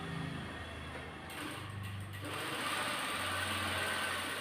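Domestic sewing machine stitching the slit of a kurti, a steady mechanical whir running throughout with a brief pause and restart midway, close and fairly quiet.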